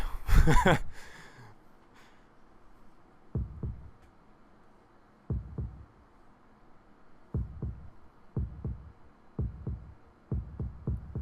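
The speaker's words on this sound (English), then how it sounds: "I hear a heartbeat" Heartbeats in the Tsukihime visual novel sound as soft, low, muffled double thumps repeating at a slow, steady pace after a short opening burst, with no voices.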